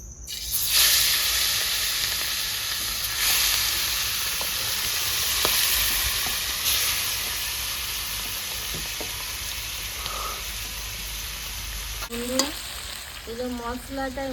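Chicken with spice masala fries in a pan with a steady, loud sizzle and hiss, broken by occasional stirring scrapes, continuing close and unbroken for the whole stretch without talk.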